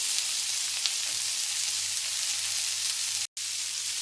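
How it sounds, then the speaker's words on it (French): Chorizo sizzles in a hot pan as it is stirred, a steady crackling hiss running throughout, with one brief dropout near the end. "Et je remélange à nouveau pour faire suer mon chorizo."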